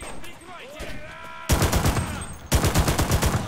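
Gunfire in the video game Enlisted: a quieter stretch gives way to two loud bursts of rapid automatic shots, each a dense run of sharp cracks, with a faint voice now and then in the background.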